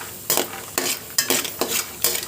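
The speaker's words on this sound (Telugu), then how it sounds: "వేరుశెనగ పప్పుల్ని మిడిల్లోనే వేయించుకుంటే పప్పు లోపల కూడా బాగా వేగుతుందండి" Peanuts roasting in a pan on medium heat, stirred in five distinct rattling scrapes at a steady rhythm, close and clear with no talk.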